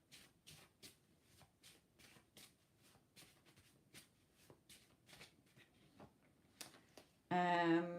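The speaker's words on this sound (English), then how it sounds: "I was shuffling there" Tarot cards shuffled by hand during a live reading, a quiet run of repeated riffling flicks in an irregular rhythm, close and soft, ending in a sudden louder burst.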